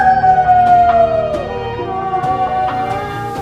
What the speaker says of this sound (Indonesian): Serigala liar itu menatap langit dan melolong panjang.